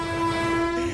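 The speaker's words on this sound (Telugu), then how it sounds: "ట్రైన్ కూడా దగ్గరికి వస్తుంది." A train horn sounds as a loud, steady sustained tone with layered harmonics, holding for under a second under a rumble of rail noise, as a train draws near.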